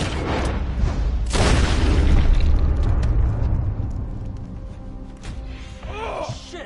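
A gunshot in the Red Dead Redemption 2 western game, a sharp blast at the start and a heavier boom a second later that rolls into a long rumbling decay, followed by a brief voice near the end.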